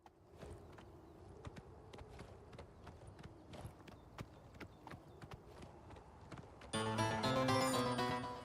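Horse hooves clip-clopping in a steady walking rhythm on a mountain trail, with sharp distinct strikes, and a louder burst of dense noise near the end.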